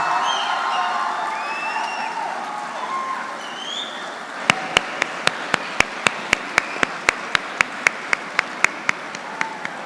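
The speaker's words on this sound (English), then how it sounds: "it deserves this kind of applause" An audience at a PES University convocation cheers a graduate receiving the first PhD from the Faculty of Management and Commerce: a noisy hall gives way to sharp, evenly spaced claps in a steady rhythm.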